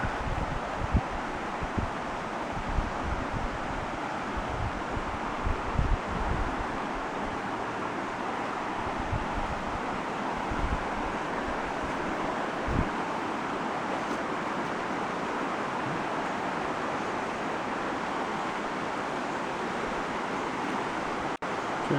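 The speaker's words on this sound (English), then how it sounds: "Okay, sound of the river." Steady broadband rush of the Broad River flowing along the Broad River Greenway in Boiling Springs, North Carolina, a continuous even wash with occasional low rumbles and gusts, no voices.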